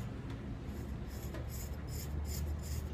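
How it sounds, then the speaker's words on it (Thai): Blacktip shark skin is scraped slowly at close range, a steady gritty rasping over a loud continuous background hum, with strokes repeating more clearly toward the end. "เดี๋ยวผมจะให้ดูแบบใกล้ๆเลยขูดแบบใกล้ๆเลยนะครับค่อยๆขูดไป"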